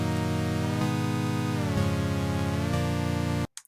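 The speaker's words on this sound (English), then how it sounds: "The original keyboard part sounded like this." Sustained MPE synth keyboard chords with rich harmonics, shifting every second or so in a smooth progression, then cutting off abruptly near the end.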